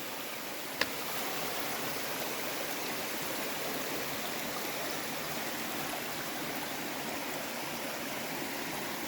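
Water cascading down the rocks at Harcourt Cascades on a hiking trail, a steady, full rushing roar that stays constant throughout with a single brief click near the start.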